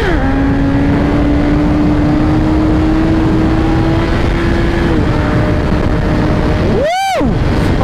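A 2017 Honda CBR1000RR motorcycle accelerates hard under steady rushing wind noise, its engine note climbing then dropping around five seconds, with a brief loud swelling whoosh near the end.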